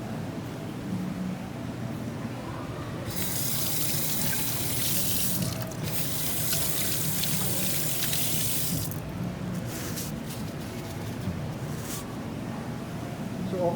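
Tap water running into a sink at a mall hand-washing area: a steady, close splashing stream that starts partway in, runs for several seconds, then stops, over continuous indoor background noise.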